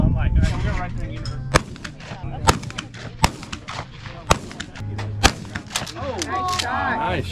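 Shotgun shots at an outdoor trap-shooting competition, six loud sharp blasts spaced about a second apart, close by, with people talking and calling between them.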